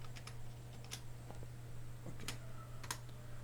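Text typed on a computer keyboard during Photoshop poster design work, a sparse run of light, quick key clicks at close range over a steady low hum, no voices.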